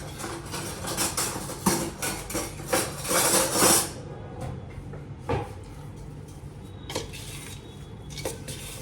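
A spoon stirs a salted raw mango mixture in a bowl for homemade pickle, making irregular clinks and scrapes against the bowl. The bursts come close and fairly loud at first, then turn sparse and quieter, with no talking.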